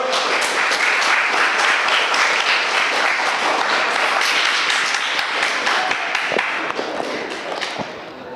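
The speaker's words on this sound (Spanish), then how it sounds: "Un aplauso fuerte para Gabriela, por favor." Audience applause for a speaker at a talk on gender violence: a loud, dense burst of clapping from a room full of people, steady for several seconds, then thinning toward the end.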